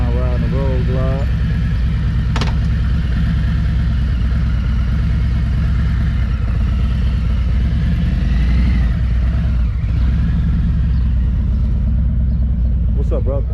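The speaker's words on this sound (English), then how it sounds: "First time riding the road glide." A 2021 Harley-Davidson Road Glide with 18-inch handlebars rides down a street, its engine rumbling loud and steady throughout with people talking over it.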